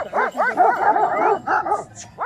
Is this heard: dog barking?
yes